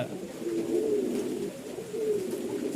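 Pigeons coo softly in a low, rolling murmur, two drawn-out calls close together with steady faint background noise.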